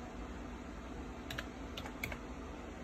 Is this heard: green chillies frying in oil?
no